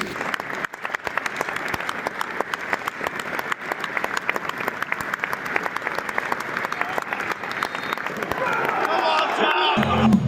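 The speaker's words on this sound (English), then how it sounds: "We will now have a minute's applause for Robin, which will end on the referee's whistle." A large football stadium crowd at Ipswich versus Oxford United claps steadily and continuously in a minute's applause, dense applause filling the space, swelling slightly toward the end.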